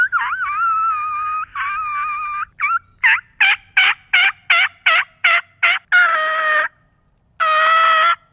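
A Sweet V cut diaphragm turkey mouth call imitating a wild turkey: a few drawn-out notes, then a rapid run of sharp, evenly spaced yelps, and finally two long raspy calls, loud and alone.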